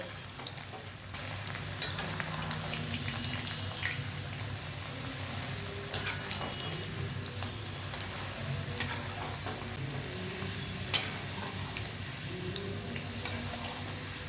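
Continuous hissing sizzle of mochai (field beans) deep frying in oil in a pan, steady and busy throughout, with a few faint clinks and stirring sounds now and then.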